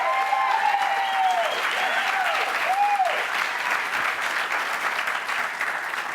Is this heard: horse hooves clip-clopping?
no